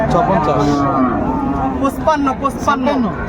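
Sahiwal-breed cattle moo with long low calls beside each other while people talk nearby amid a busy crowd murmur, in Comilla, Bangladesh.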